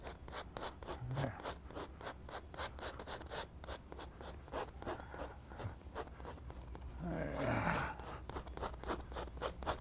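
Brush rubbing paint onto a canvas while painting rocks in a wet-on-wet landscape, heard as steady, rhythmic close scrubbing strokes with a brief louder scratchy burst near the end.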